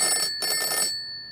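Telephone bell ringing in two short bursts, loud and near, with a faint tone lingering after the ring stops.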